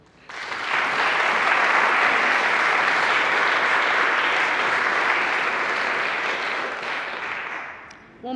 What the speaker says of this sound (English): One more round of applause for all of our incredible speakers